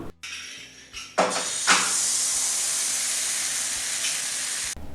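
Dosa batter hits a hot appam pan with a loud, steady sizzle that flares up sharply and holds as a close, continuous hiss for several seconds before cutting off.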